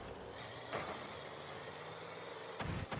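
A car engine from the video game Rocket League drones at a steady low pitch throughout, joined by brief whooshing bursts and a louder burst near the end, with no talking.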